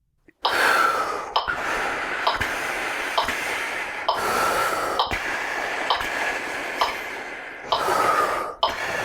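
Rhythmic breathing exercise with paced exhales and inhales in steady tempo, breath sounds clear and close with sharp breath onsets repeating about every second, no talking.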